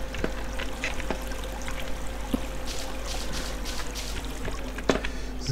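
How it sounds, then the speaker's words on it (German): Water pouring in the block-building game Minetest, a soft continuous trickle with faint clicks and small splashes, quiet and alone. "hier ist auch noch Wasser"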